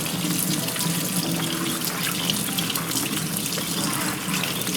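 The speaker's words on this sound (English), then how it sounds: "cool running water to make sure that all of the dirt, whatever there is removed from them" Potatoes are rinsed under cool running tap water in a sink, a steady, close hiss of flowing water that runs unbroken throughout with no talking.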